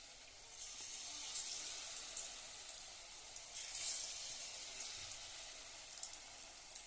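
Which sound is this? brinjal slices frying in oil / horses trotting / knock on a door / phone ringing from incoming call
brinjal slices frying in oil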